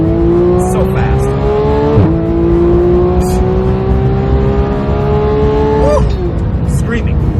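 HG Performance Porsche 911 GT3 Street Cup screams hard under acceleration, loud high-revving engine climbing through gears with abrupt upshift drops, close and continuous.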